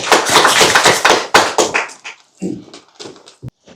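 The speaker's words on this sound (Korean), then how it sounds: "박수를 모시겠습니다." Applause from an audience at a Korean legal seminar, a dense burst of clapping that swells and then thins into scattered claps before dying out.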